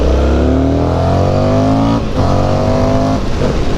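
Loud 2024 Indian FTR R Carbon motorcycle engine revving hard through the gears, rising pitch sweeps broken by a brief shift dip near the middle, then pulling strongly again, close and continuous with no talk.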